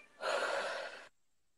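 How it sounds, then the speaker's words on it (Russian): A deep inhale during a psychologist's breathing exercise, one long airy breath drawn in close to the microphone for about a second, then silence. "Давай, еще глубже вдох."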